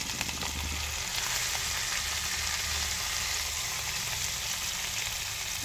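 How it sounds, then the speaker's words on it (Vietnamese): Fish fries in a pan with oil, giving a steady, close sizzle and crackle that continues evenly without voices. "Mình chiên này để cho cá của mình nó được thơm và đỡ bị tanh thôi"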